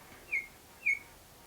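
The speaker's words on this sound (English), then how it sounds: "I just heard like a bird chirping kind of sound." Two short electronic chirps from a Cubo Ai baby monitor during pairing, evenly spaced about half a second apart, sound over quiet background hiss.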